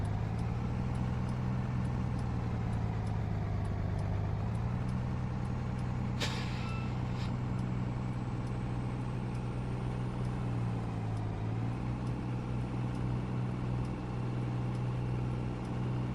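Heavy truck engine driving in Farming Simulator 19 on the Emerald Coast map, a steady loud low drone with gear-shift dips and a short hiss like an air brake partway through.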